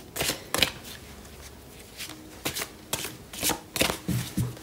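Tarot cards are shuffled by hand up close, giving a series of short riffling bursts and soft slaps separated by brief pauses, with no talk.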